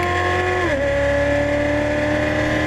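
An exotic race car on a track, its engine droning at high revs before the pitch drops sharply on an upshift, then holding a steady, loud, close tone.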